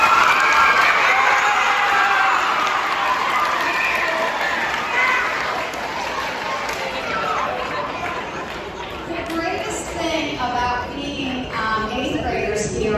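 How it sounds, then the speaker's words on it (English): Middle school students at a 7th grade celebration applaud and cheer loudly together, a dense wash of clapping that slowly gives way to chatter and talking voices. "Let's give a round of applause for ourselves for that."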